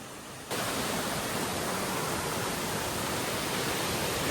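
The waterfall at Darya Ghat gives a steady broadband rush that swells in after a brief quieter opening and then stays constant and close, with no voices.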